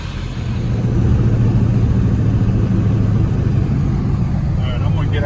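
Ford 7.3 diesel truck engine pulling away on a drive with a steady, loud low rumble that builds in the first second and holds, close-up.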